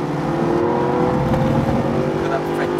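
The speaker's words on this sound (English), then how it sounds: "Look at that fantastic engine, listen to that." A Mercedes SLS AMG GT engine at the Nürburgring roars loudly from inside the car as it accelerates, a steady rising multi-tone drone that continues for the whole stretch.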